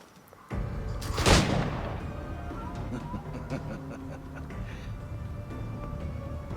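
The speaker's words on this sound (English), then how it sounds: "Oh, firing cannons." A heavy boom of ship cannons firing in the pirate video game Assassin's Creed 4 Black Flag, one loud blast followed by a sustained rumbling wash of game ambience and distant battle noise.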